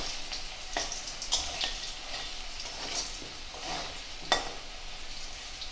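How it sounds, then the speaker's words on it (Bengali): Steady sizzling of potatoes frying in a pan, a soft continuous crackle broken by a few scraping stirs of a utensil, close and without talk. "আমি আলুটা ভেজে নিচ্ছি"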